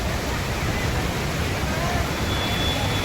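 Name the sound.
water rushing strongly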